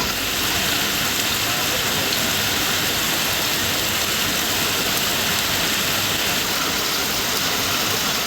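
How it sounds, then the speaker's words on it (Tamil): Heavy rain falls across the suburbs of Chennai in a dense, continuous hiss that holds steady and loud throughout, with no pauses or distinct individual sounds. "இதேபோன்று தாம்பரம், குரோம்பேட்டை உள்ளிட்ட புறநகர் பகுதிகளிலும் மழை பொழிவை காண முடிந்தது."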